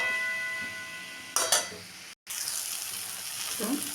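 Fenugreek greens frying with potato and eggplant in a pan, a steady close sizzle broken by a brief clatter of utensil strokes and a short gap before the frying hiss resumes.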